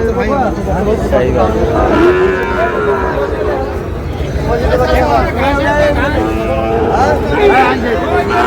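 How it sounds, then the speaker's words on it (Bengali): A Sahiwal bull moos repeatedly at a busy cattle market in Dinajpur, with loud, drawn-out calls rising over crowd babble and nearby talk. "শাহিওয়াল ষাঁড়"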